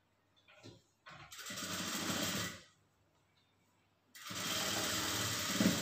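A sewing machine stitches a plain blouse in two close, loud bursts of fast whirring, separated by a short pause of near silence.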